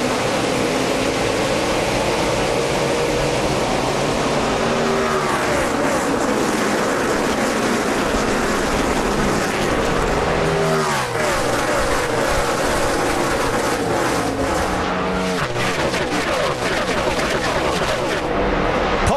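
A pack of NASCAR stock cars roars away at the green flag at Homestead for the final race of the Sprint Cup chase, a loud continuous engine rumble with rising and falling passes close by.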